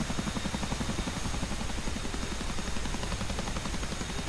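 A CH-47F Chinook helicopter landing in the DCS flight simulator, a dense, loud, continuous rotor thrum with rapid rhythmic blade pulsing throughout, alone with no voices.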